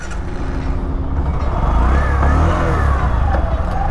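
A Bajaj Platina 110 ABS motorcycle, a 110cc BS6 bike, runs close by with a steady engine hum that rises slightly as it revs, loud and continuous with faint traffic around.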